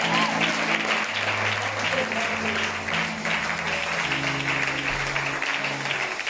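Church congregation applauding together, a dense, sustained clapping from a crowd in a worship service, mixed with voices and sustained musical tones underneath.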